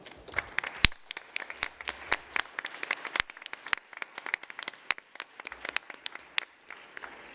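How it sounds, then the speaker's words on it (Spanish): Audience applause at a Spanish-language round-table panel on editorial translation tools, with sparse, uneven claps from a small crowd that come in scattered bursts and fade in and out over several seconds. "Le damos un aplauso, ¿no?"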